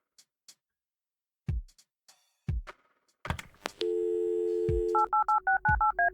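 Several dull thumps and clicks as a hotel room phone is picked up in the video game Kathy Rain, then a steady dial tone followed by a quick series of touch-tone dialing beeps, loud and close.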